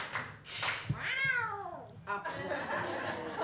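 A woman imitates a cat's meow with her voice: a single drawn-out, wavering meow that rises and falls, close and clear, set among chatter and light laughter.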